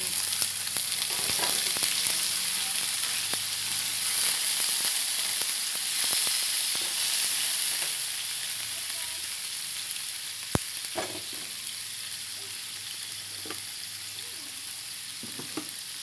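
White squid fries in butter in a pan for adobong pusit, making a loud, continuous sizzle with scattered crackles, occasional soft stirring noises and one sharp knock near the end.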